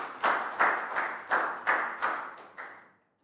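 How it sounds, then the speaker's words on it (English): A Year 4 maths class claps for a student in seven sharp, evenly spaced beats, each clap ringing briefly before the next, ending in silence. "High five and a big round of applause for Net"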